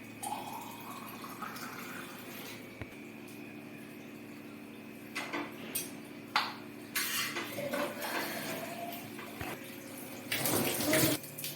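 A tap runs water into bottles, a steady stream with shifting pitch as they fill, mixed with clinks and knocks of the bottles being handled, moderately close with no talking.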